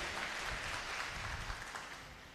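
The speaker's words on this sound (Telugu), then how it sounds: "గట్టిగా చప్పట్లు కొట్టి గట్టిగా కొట్టాలా" Soft, distant applause from a church congregation, a steady wash of many hands clapping that stays even and quiet throughout and fades slightly at the end.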